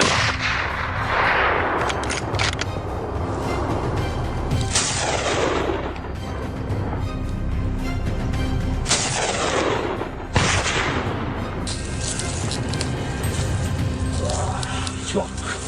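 Gunfire during a wild boar hunt outdoors, with several loud, sharp shots at irregular intervals, each followed by a booming echo over steady background noise.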